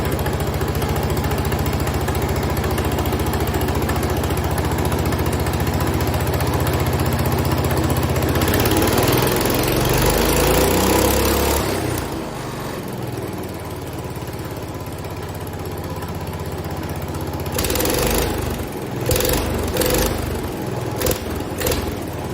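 A 1970 International Cub Cadet 127 lawn tractor engine runs loud and close, a steady idle rising as the throttle opens, then roughening and surging unevenly toward the end.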